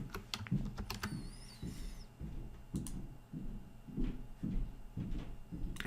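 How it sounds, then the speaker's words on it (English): Keys clatter in bursts on a computer keyboard while entering a short cabinet-design command, with irregular clusters of taps and brief pauses between them, close by and fairly quiet over a low room hum. "This time I'll type"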